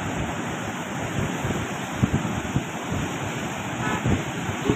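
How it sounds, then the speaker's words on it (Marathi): Floodwater of the Krishna river near Bahe in Maharashtra rushes past in a broad, continuous roar, with gusts of wind buffeting the microphone, heard close and steady with no talking. "दुथडी भरून सध्या हे पाणी वाहते।"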